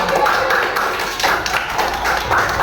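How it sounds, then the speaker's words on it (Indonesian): Children clap their hands together in an Indonesian classroom lesson, a few rhythmic bursts of clapping spread across the moment amid background chatter. "tepuk tangan dulu kalian semua"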